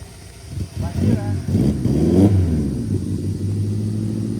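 A car's engine revs hard and strains while climbing a steep road between Pesisir Selatan and Solok, a loud, close, rising mid-range drone that swells and holds, with people talking over it.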